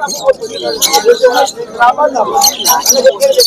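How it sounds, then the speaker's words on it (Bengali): Lutino cockatiels at the Uluberia pet market chirping and calling in busy overlapping bursts, loud and close, with other birds mixed in and someone talking throughout. "এই যে দেখতে পাচ্ছেন প্রচুর পরিমাণে লুটি ককটেল রয়েছে"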